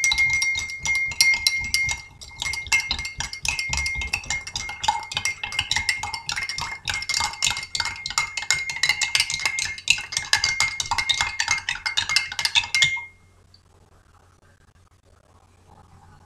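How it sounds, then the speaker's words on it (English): Metal spoon stirring salt into water in a glass, a rapid continuous clinking and scraping against the glass for about thirteen seconds, close and fairly loud, then stopping abruptly into near silence. "In these 2 glasses, I'm going to change it by stirring."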